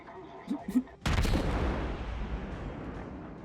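In World of Warships the cruiser Neptune fires a salvo of naval shells: a loud, sharp boom that rolls into a long rumbling decay, after brief quiet talk beforehand.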